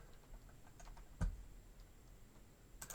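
Sparse, quiet keystrokes on a computer keyboard while writing Python code: a few soft scattered clicks and one sharper tap in an otherwise hushed room.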